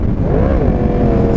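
The engine of a Yamaha MT-10 motorcycle, said to share the R1 sound, revs loudly and close up. The pitch rises and falls in one brief, throaty swell.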